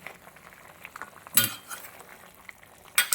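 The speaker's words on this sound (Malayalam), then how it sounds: "ഇടയ്ക്കൊന്ന് ഇളക്കി കൊടുത്തേക്കണം." Pork curry is stirred in a pan over gentle frying sizzle, with a spoon scraping and clinking against the metal twice in sharp, loud bursts among quieter scrapes.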